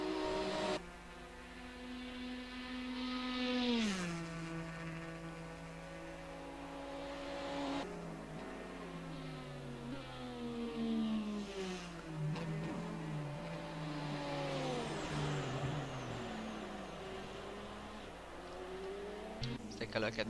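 Le Mans racing cars in Assetto Corsa, including a Nissan Nismo prototype, their engines rising and falling through repeated gear changes and passes, moderately loud under a commentator who talks throughout.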